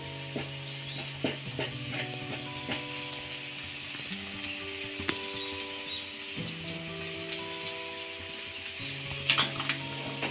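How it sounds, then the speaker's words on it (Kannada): Half a tablespoon of chili powder fries in oil for an okra fry, giving a steady close crackle and sizzle with scattered stirring ticks, and a faint tonal hum runs underneath. "ಖಾರದ ಪುಡಿ ಎಣ್ಣೆಲಿ ಹಸಿ ಸ್ಮೆಲ್ ಹೋಗೋವರೆಗೂ 1 ನಿಮಿಷ ನೀಟಾಗಿ ಹುರಿಯಿರಿ"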